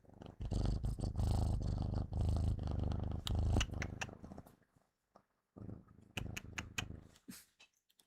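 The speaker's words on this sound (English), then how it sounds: "You'll hear a purr." A domestic cat purrs up close with a loud, rumbling purr that pulses with each breath. The sound breaks off into silence partway through, then returns in shorter bursts.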